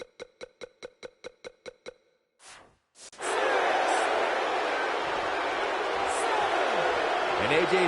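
Wrestling arena crowd roars into a loud, sustained cheer after a short run of rhythmic beats, with a broad wash of voices and applause holding steady to the end.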